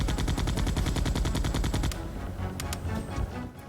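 Rapid automatic gunfire from a Resident Evil 2 game rattles in a dense, steady burst for about two seconds, then gives way to scattered single shots and clatter as the fight winds down.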